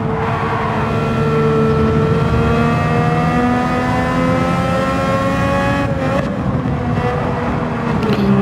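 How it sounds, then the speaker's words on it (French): A race car in Gran Turismo 7 revs hard under acceleration, its engine note climbing steadily before a clear gear change drops the pitch and the climb starts again, loud and close with no talking. "on va commencer à accélérer, on essaie de ressortir en 3 parce que le passage de vitesse prend un peu de temps sur ce véhicule"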